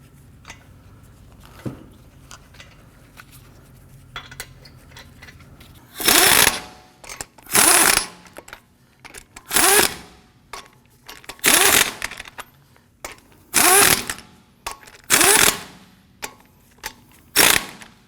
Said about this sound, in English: Once they're all started, we'll go ahead and snug them down.